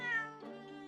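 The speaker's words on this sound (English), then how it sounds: "Isn't that Soseki-san's cat?" A cat in the video game The Great Ace Attorney Chronicles lets out a single short meow, clear and alone, fading over under a second.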